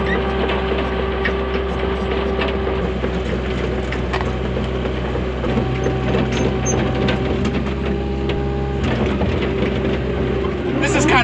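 A tractor-mounted blade scrapes and smooths a stretch of dirt ground, the engine droning steadily low underneath while rattling, clanking mechanical noises come and go at close range.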